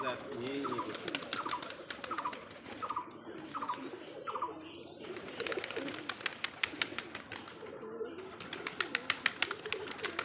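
Foreign high flyer Giribaj pigeons cooing at a farm, a steady run of soft repeated coos near and clear, with no talk over them.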